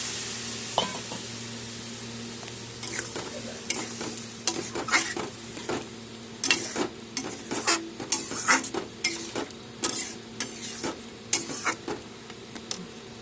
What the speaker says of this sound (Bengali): এখন দিয়ে দেবো জল। দিয়ে দিলাম জল।